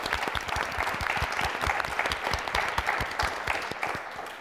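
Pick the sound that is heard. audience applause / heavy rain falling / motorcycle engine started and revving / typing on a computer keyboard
audience applause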